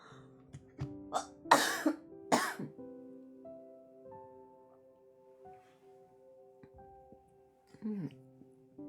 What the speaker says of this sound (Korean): 아이고 목도 건조해지나 봐요. 기침이 막 나는데요.